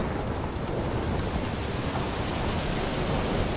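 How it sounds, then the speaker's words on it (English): Thunder rolls through a heavy rainstorm in The Witcher 3, a loud, steady rumbling roar under a dense hiss of rain, continuous for the whole stretch with no voices. "Lightning strike."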